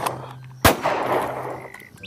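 A toy shotgun fires one sharp loud bang, followed by a short rattling tail over a faint steady hum, with no talking.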